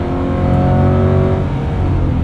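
Loud engine of a 2025 Chevrolet Corvette Stingray roaring steadily up close, with revs shifting in pitch as the driver brakes hard and drops into second gear while slowing.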